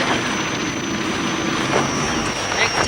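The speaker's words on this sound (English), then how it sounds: "The royal family use helicopters to visit the more isolated parts of Thailand." A royal family's helicopter in 1970s Thailand, a steady broadband engine and rotor roar with a faint whine above, continuous and fairly loud throughout, no talk.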